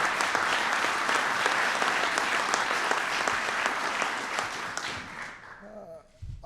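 Sustained applause from an audience honoring mayors at a bill signing ceremony, dense and steady for several seconds before tapering off near the end.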